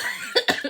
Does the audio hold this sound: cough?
yes